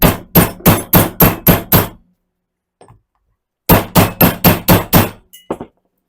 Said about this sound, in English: So let's knock this seal out.